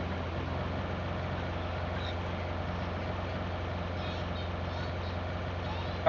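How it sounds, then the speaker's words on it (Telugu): A car engine in the PUBG Mobile game, a low steady droning rumble that continues without a break, moderately loud, with faint speech in the background. "కారు ఉంది లెఫ్ట్ లో కారు ఇదిగో"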